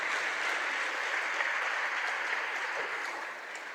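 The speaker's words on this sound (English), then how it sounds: "Let's clap Maddie up." Steady audience clapping at a plenary session of a community conference, a dense, even wash of applause that continues throughout at a consistent level.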